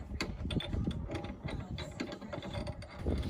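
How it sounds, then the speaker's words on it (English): Ratchet straps are cranked to compress the rear leaf springs on a Ford Transit 250 van, giving a series of quick, close clicking ratchet bursts in uneven rhythm, fairly quiet, with no talk. "We use ratchet straps and C-clamps to bring the leaf springs together"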